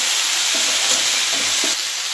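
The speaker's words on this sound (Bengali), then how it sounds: "এবার আমি এর মধ্যে দিয়ে দিচ্ছি ক্যাপসিকাম।" Capsicum frying in a hot pan for a thin rohu fish curry with winter vegetables, a loud, dense, continuous sizzle with faint scraping stirs beneath it.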